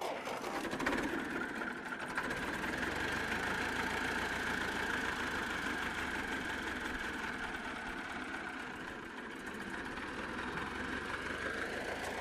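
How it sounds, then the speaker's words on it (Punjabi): A 70-year-old German 4x4 tractor engine runs at a steady, slow idle close by, its even mechanical drone filling the whole stretch with no talking. "ਹੁਣ ਆਪਾਂ ਜੀ ਆਹ ਟਰੈਕਟਰ ਤੁਹਾਨੂੰ ਸਟਾਰਟ ਕਰਕੇ ਦਿਖਾਉਣੇ ਆ ਜੀ।"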